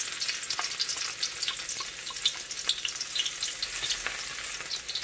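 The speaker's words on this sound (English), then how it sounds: "First, I'm going to saute the garlic" Garlic sautéing in hot oil gives a steady, close crackling sizzle with dense bright spatter and occasional stirring scrapes, continuous and fairly loud throughout.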